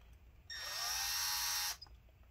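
A small, sharp drill bit bores through the plastic casing of a Dell Inspiron 5575 laptop, giving a loud, steady high-pitched whine that lasts about a second before stopping abruptly, with quiet handling sounds before and after.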